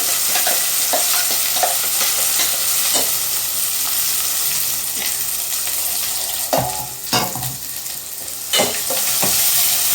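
Ground chili masala sizzles loudly in oil in a pan for a brinjal kuzhambu, with repeated scraping stir strokes cutting through the constant close frying hiss.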